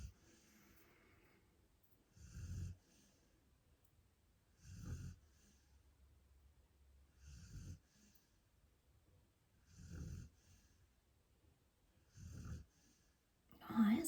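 Sprocket snores indoors with slow, regular breaths, each rumbling snort repeating every two to three seconds, close and fairly soft against a quiet room.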